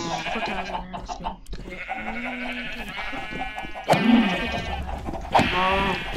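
Several sheep in Minecraft let out loud, close, wavering bleats one after another, separated by short pauses, with no talk over them.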